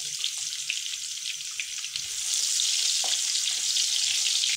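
Chopped onions sizzle and fry steadily in hot melted ghee with garam masala while yakhni chicken pulao is cooked, a dense continuous crackle that grows louder midway, close up with no talking.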